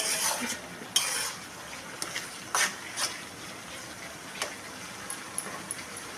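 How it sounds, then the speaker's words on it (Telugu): Drumstick pieces fry with tomatoes in a pan for a prawn and drumstick masala curry, giving a steady close sizzle broken by scraping clinks of a spoon stirring against the pan. "మునక్కాయ ముక్కలు వేసుకొని అవి కూడా పచ్చివాసన పోయేదాకా బాగా వేయించాలి"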